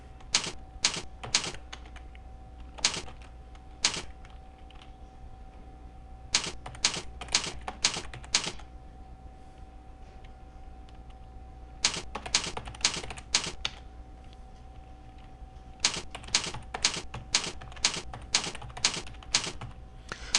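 A computer keyboard is typed on in quick bursts of crisp clicks separated by short pauses, close and clear with no voices.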